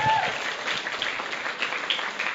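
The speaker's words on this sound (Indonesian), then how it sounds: "Tepuk tangan untuk Anda." Audience applause at a business motivational seminar in Lampung, Sumatra, a dense, steady clapping from a crowd that fills the room evenly throughout.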